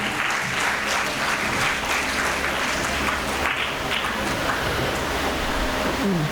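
A crowd at a high school project day prize distribution applauds a guest, steady loud clapping filling the whole stretch with no talk over it.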